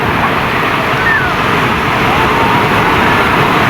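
Strong surf pounds a beach in La Union, a loud, steady, unbroken roar of crashing ocean waves filling the whole stretch.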